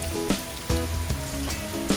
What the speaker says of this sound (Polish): codziennie, praktycznie wieczorem i rano pada taki mocny tropikalny deszcz.